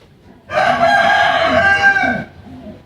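A rooster crows loudly and close by in the early morning, one long drawn-out cock-a-doodle-doo lasting about two seconds and standing alone after a moment of quiet.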